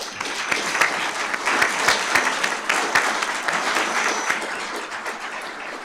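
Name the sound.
audience round of applause at awards ceremony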